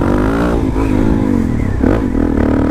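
A 2017 Suzuki DRZ400SM supermoto motorcycle revs hard during a wheelie over a train track on a country road, a loud, close engine roar with rising and falling pitch and some rattling throughout.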